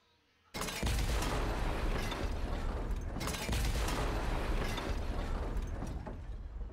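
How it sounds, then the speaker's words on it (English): Loud, continuous bursts of explosions and crackling debris in the video game Transport Fever, dense and booming, with a second big blast partway through. "Explosions!"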